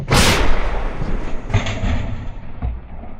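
A captured 2A36 Giatsint (Hyacinth) towed artillery gun fires once, a loud, sharp, close blast that rolls into a long, fading rumble with echoes trailing off.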